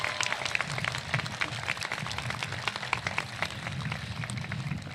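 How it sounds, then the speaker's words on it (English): A graduation crowd at Indio High School applauds in a steady, dense wash of many hands clapping at once, sustained and fairly loud throughout with no pause. "Join me in giving all of them a round of applause"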